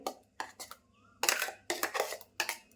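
Ground masala paste scraped out into a kadai with a spoon for Malvani bangda tikhal, a series of short, sharp scraping and clinking strokes, some louder and rougher, separated by brief pauses.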